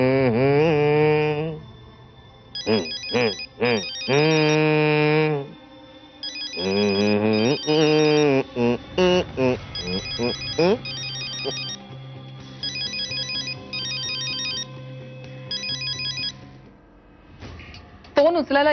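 A phone rings in a Marathi TV serial scene: loud, repeating bursts of a melodic ringtone pattern that go on for many seconds, with a voice briefly mixed in.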